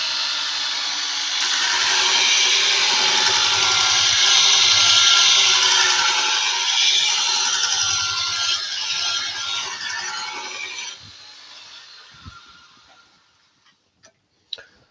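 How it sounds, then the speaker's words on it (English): A woodturning bowl gouge being sharpened gives off a steady, loud grinding hiss for about ten seconds, then stops, leaving a few faint clicks and knocks. "Sharpen the bowl gouge."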